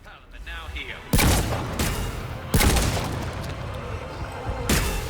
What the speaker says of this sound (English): I just love shooting everything with all the guns.